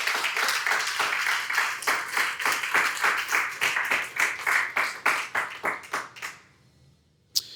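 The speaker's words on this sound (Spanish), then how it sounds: "¿Cuántos le regalan palmas al Señor por eso?" A church congregation claps in a steady, fast rhythm for several seconds, loud and close-sounding with no voices over it, before the clapping thins into scattered claps and stops near the end.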